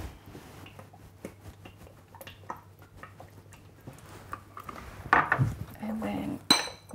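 A utensil clinks and scrapes against a bowl while stirring a spicy pineapple dressing of salt, white wine vinegar and olive oil, with light taps close by that build to louder clatters near the end.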